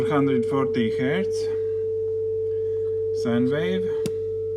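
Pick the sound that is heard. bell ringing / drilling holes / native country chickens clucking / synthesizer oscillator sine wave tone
synthesizer oscillator sine wave tone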